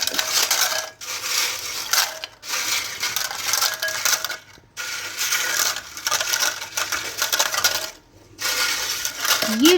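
Crispy homemade potato chips are scooped out of a pan, making dense, repeated rustling crunches in several bursts with short pauses between them, close and fairly loud.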